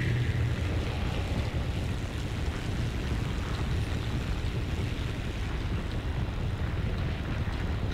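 Burning planes crashing during a War Thunder air battle, heard as a continuous roaring rumble of engines and distant impacts, dense and steady with no distinct individual crashes and no voices.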